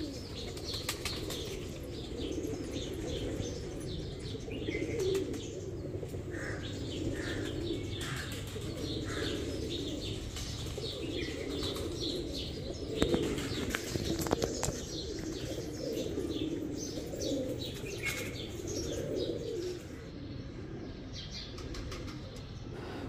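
Baby pigeons, teddy and other fancy breeds, coo softly and repeatedly at close range, with chirps and bursts of flapping wings among the flock.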